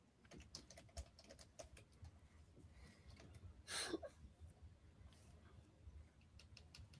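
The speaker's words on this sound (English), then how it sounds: "Yeah, I'll keep typing." Quiet, rapid tapping on a computer keyboard, close by, in irregular bursts across the clip with a brief louder rustle in the middle.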